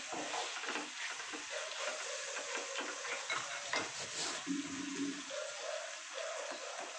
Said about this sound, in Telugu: మిక్స్ చేసుకుందాం